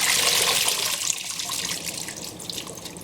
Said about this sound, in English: So I can fill the sink up again.